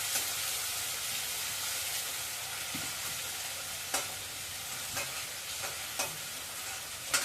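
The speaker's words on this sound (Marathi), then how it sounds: "त्यात आता एक बाऊल कांदा टाकणार गोल्डन कलर मध्ये थोडा फ्राय करून घ्यायचा आहे" A bowl of onions frying in hot oil for veg hakka noodles, a dense even sizzle close up, punctuated by several brief spatula taps toward the end.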